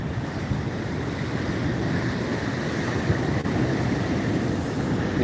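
Steady roar of ocean surf at Pismo Beach, with continuous broadband wash of breaking waves and some wind rumble, unbroken throughout.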